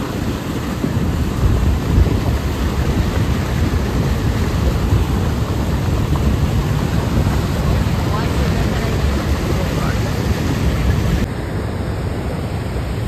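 Niagara Falls roaring from the American side, a dense, loud, unbroken wash of rushing water that stays steady throughout with no clear voices over it.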